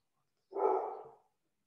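A single short dog bark sounds indoors, fairly faint and somewhat muffled, surrounded by silence.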